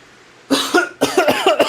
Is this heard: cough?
yes